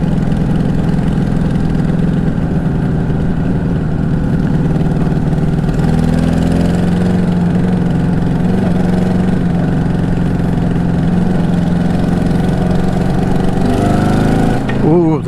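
A motorbike with a sticking choke runs steadily while being ridden, a loud continuous engine drone with wind rush and a slight change in pitch partway through.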